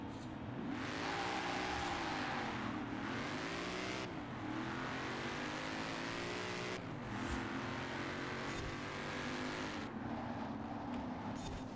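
A car laps a test track in Forza Horizon 4, its engine revving up and down through gear changes with rising and falling harmonic whine, loud and steady with no talking.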